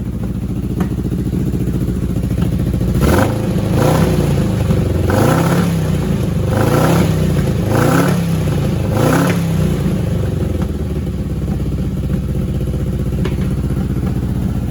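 A 1982 Honda CB900F barn-find motorcycle runs at idle with raw fuel dumped into the exhaust through cylinder four, giving a steady engine drone and a series of about six rhythmic revs with snapping, popping bursts in the middle.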